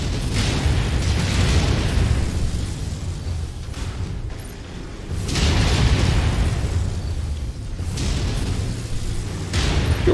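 Missile explosions from the mech combat game MechWarrior 5, deep booming blasts in two long rumbling waves with a brief lull between, loud and filling the whole stretch without talk.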